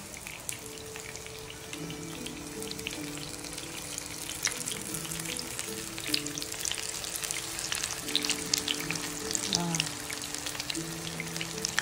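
Steady, dense crackling and sizzling of large shrimp deep frying in hot oil, continuous and close, with faint background hum and no talking.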